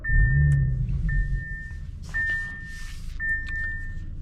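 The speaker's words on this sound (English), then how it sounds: "Let us fire up the car." An Audi S4 with a 3.0 V6 single-scroll turbo idles with a low steady rumble, while a repeating chime dings over it at regular intervals.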